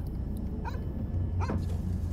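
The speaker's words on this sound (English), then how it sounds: "There's a dog outside." A dog gives two short barks outside in the video game Fears To Fathom, heard faintly at a distance over a low ambient hum.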